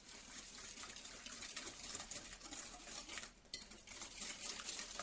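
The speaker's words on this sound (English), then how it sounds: "Add the eggs one by one. And mix after each addition." Banana bread batter being mixed after eggs are added in a stand mixer bowl, soft scraping and clinking of utensils against the bowl with a faint wet stirring sound, quiet and close.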